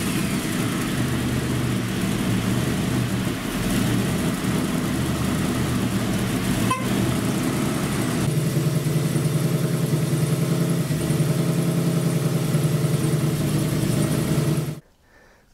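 A car's V8 engine idles steadily and close by, a constant low rumble that holds for the whole stretch with one brief tick in the middle, then cuts off abruptly at the end.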